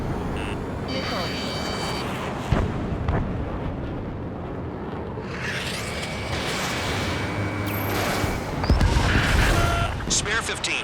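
Missile fire and explosions in the game Ace Combat 7, heard from a fighter jet: a steady roaring rumble with sharp blasts and a swelling explosion near the end, with radio voices talking over it.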